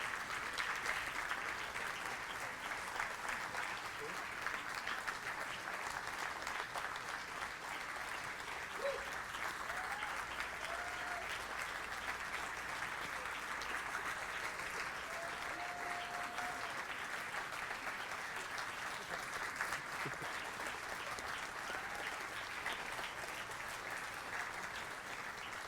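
Sustained audience applause for eight graduating seniors and their families walking to the stage during a church service, a steady dense clapping that runs unbroken and evenly loud throughout.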